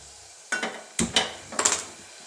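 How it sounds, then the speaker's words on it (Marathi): Ground masala is stirred and mixed in a pan in three short bursts of scraping and sizzling, each dying back to near quiet between strokes. "चांगला मिक्स करून घ्यायचा आता"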